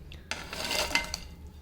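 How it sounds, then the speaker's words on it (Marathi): Fried pakoras dropped into kadhi in a pot: a few clinks and knocks of a utensil against the pot, with soft scraping and stirring between them, close and moderately loud. "आता आपले पकोडे झाले आहेत आणि आता आपण हे कढीमध्ये टाकून घेऊया"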